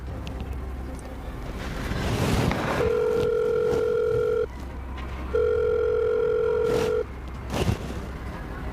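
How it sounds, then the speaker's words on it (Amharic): An outgoing phone call rings unanswered: two long, steady ringback tones with a pause between them, over faint background and wind-like noise, with no talking. "ስልኩ አይነሳም ደሬ።"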